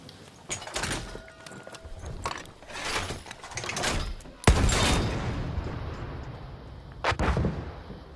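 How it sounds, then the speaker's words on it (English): Artillery shelling in the World War I shooter Battlefield 1: a string of heavy booms and blasts over rumbling battlefield noise, with the loudest impact near the middle and another sharp burst after it. "as you can see by the explosion, it's confirmed that we have a hit"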